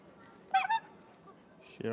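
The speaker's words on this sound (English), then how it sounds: "you can hear there are two squeaky ducks that make noise when the dog steps on the plank" Two squeaky toy ducks fixed to a wooden plank squeak when a dog steps on it at a Mondioring championship event: two quick squeaks, then a longer one near the end, heard against quiet background noise.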